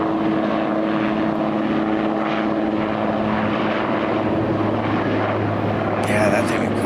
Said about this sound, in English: Yeah, that's a cool looking helicopter.